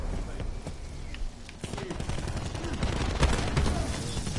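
Sniper rifle shots and scattered gunfire crackle through a Call of Duty match, sharp reports repeating in a dense, busy mix that stays loud throughout.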